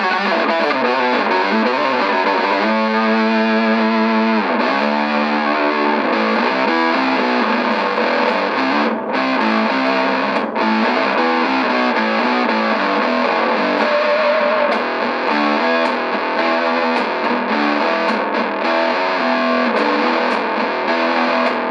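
A Boss OC-3 Super Octave pedal on its drive setting sounds through a loud, continuous distorted electric guitar tone with thick octave-doubled chords and sustained notes, played alone with no talking.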